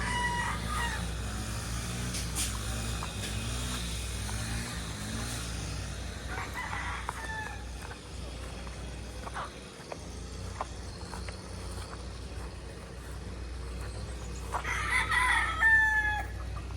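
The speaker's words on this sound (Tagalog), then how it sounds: "Daming manok dito." Chickens and roosters on a large farm cluck and crow steadily, with a rooster's crow rising clearly near the end over a constant low hum and faint background chirping.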